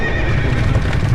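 A two-headed horse in the video game Dark Souls II gives a loud, close neigh, a rough, strained whinny sustained through the short moment with hoof-like thumps beneath.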